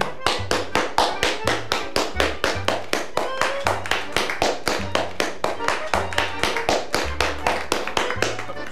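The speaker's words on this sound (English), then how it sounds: "such culinary bravado deserves a round of applause" Rhythmic, evenly spaced claps ring out in a restaurant in a slow, steady round of applause, with a low hum and some background voices underneath.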